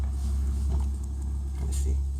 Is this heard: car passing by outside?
yes